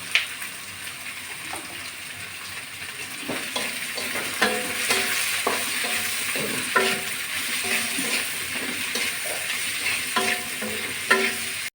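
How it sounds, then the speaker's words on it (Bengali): Onions sprinkled with salt crackle in hot oil in a pan, a continuous close sizzle broken by frequent short scraping and stirring knocks, with no voices. "আমি পেঁয়াজের ভিতর একটু লবণ দিয়ে দিচ্ছি তাড়াতাড়ি ভাজা হয়ে যাবে"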